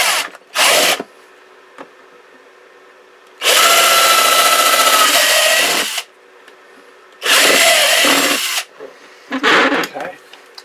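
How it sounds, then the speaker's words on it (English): A power drill bores holes into a plant pot indoors, coming in three loud, sustained bursts of whining grind separated by quieter pauses and short clicks, heard close by with no talk. "I've got my holes drilled into this pot"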